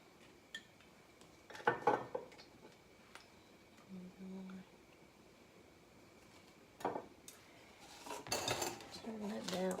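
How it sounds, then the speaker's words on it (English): Metal utensils clatter and scrape against a cast iron skillet as grapeseed oil goes in, with scattered knocks and clinks, busier near the end, in a quiet kitchen. "I'm going to put a little bit of grapeseed oil in the pan, or the cast iron skillet"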